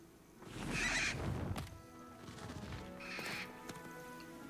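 A hippogriff in the video game Hogwarts Legacy gives two horse-like neighing whinnies, one loud and one slightly softer, with soft hoof clops and a faint ambient backdrop between calls.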